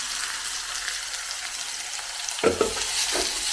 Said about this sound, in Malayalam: ഇനി ഇതുപോലെ ബാക്കിയുള്ള സവാള നമുക്ക് ഇതേപോലെ തന്നെ വറുത്തെടുക്കും.